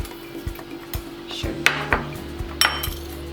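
Popcorn seasoning is stirred together in a small bowl, producing a few close clinks and scrapes of a utensil against the dish at an uneven rhythm, with no talk.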